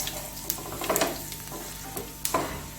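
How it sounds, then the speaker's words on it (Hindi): About a teaspoon of cumin seeds frying in a pan, a close crackling sizzle broken by several quick scraping strokes of a spoon against the pan. "और इसमें डालूंगी ज़ीरा तकरीबन 1 टीस्पून, और इसको भी थोड़ा सा फ्राई करना है।"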